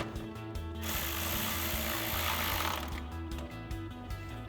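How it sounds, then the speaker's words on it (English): A 10mm socket ratchet tightens an inner grill bolt on a Barricade pre-runner front bumper for a 2014-2015 Silverado 1500, with quick rhythmic clicking close by at the start and end around a steadier mechanical whir. "And then we can take a 10mm socket and tighten that down."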